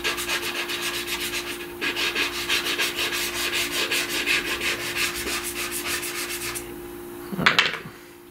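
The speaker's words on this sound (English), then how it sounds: "Let's smudge that in" Soft pastel being smudged into paper by hand, a close, steady rhythmic rubbing with repeated short strokes that pauses briefly, then ends with a sharper scuff.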